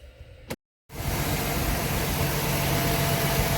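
A 2016 Ford Transit engine runs after heater hose and intake work. A brief silent gap is followed by a steady, loud idling hum that continues evenly to the end, with no speech.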